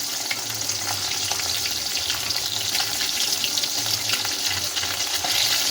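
Hilsa fish fries in hot oil in a home kitchen, giving a steady close sizzle and crackle that runs throughout with a faint low hum beneath.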